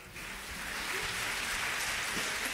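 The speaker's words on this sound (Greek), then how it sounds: "Ένα χειροκρότημα, ο Αλέξανδρος Μπουρδούμης και η Μπέτη Μαγκύρα" A theatre audience breaks into applause as two guests come on stage, a dense, even patter of clapping that starts abruptly and holds steady at moderate volume, with no speech.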